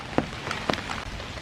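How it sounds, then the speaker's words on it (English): Light rain sprinkles in a park on a foggy autumn morning, a soft steady patter with a few sharper nearby drops landing on surfaces. "It's just sprinkling right now."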